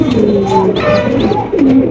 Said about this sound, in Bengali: এখানে রয়েছে বিশাল সাইজের এক জোড়া জ্যাকোবিন কবুতর